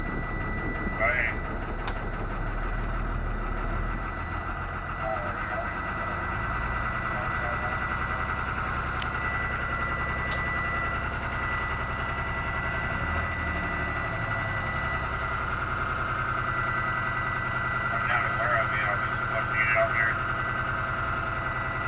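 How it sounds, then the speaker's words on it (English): A school bus engine runs steadily at high idle, set by hand throttle for warm-up during a pre-trip inspection, a constant low drone with a faint whine, with a person speaking over it. "Once the engine is running, you can use the hand throttle to manually set the idle speed to high idle"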